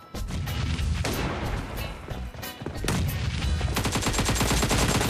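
Rapid gunfire from PUBG Mobile team deathmatch gameplay: loud, close bursts of shots that break off briefly, then resume as a fast, steady automatic stream.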